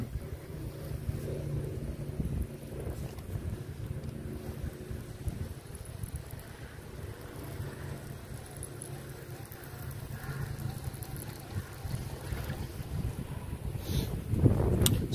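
Steady wind buffets the microphone with low rumbling gusts on a backyard pond, over a faint hum of water and a boat, continuous throughout with a louder burst near the end.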